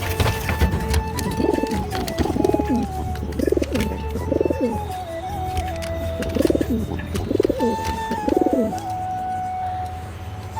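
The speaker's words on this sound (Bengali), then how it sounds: "এই হলো আমার কবুতরের সেট আপগুলো।" Pet pigeons, including a breeding pair of beauty homers, coo repeatedly inside a loft, with several rolling, throaty calls recurring in a steady rhythm at close range over a low background hum.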